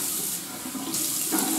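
Hot water runs steadily from a bathroom tap into a sink during a wet shave, a continuous close splashing rush that shifts slightly in tone as the stream is caught.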